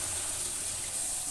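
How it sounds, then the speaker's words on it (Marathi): Hot water poured into a cooking pot in a home kitchen, partway through preparing a meal: a steady, continuous splashing gush that runs without a break, moderately close and fairly quiet, with no talk over it. "आता आपल्याला ह्याच्यामध्ये गरम पाणी टाकायचं आहे."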